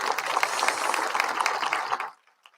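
An audience at the opening ceremony of a health museum in Nilüfer applauds in a steady, full burst of dense clapping that carries on for about two seconds and then stops abruptly.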